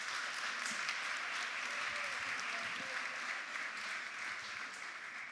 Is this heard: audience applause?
yes